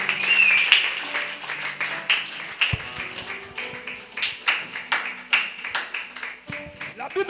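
Church congregation clapping in praise of the Lord with ululation, a run of rhythmic, fairly close handclaps that grows more regular, with voices calling over it.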